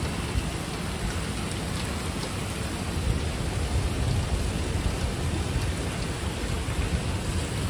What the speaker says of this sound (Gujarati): ખૂબ જ અત્યારમાં વરસાદ પડી રહ્યો છે